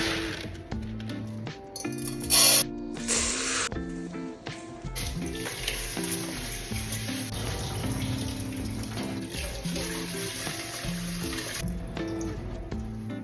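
Water pours from a dispenser over rice in a container as it is rinsed, a steady close splashing and trickling hiss with a few brief louder bursts, no voices.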